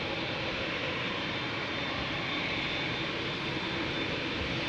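Jet engines of an Air Canada Boeing 787-8 Dreamliner at Schiphol Airport give a steady, broad roar, fairly distant and unbroken, with no voices.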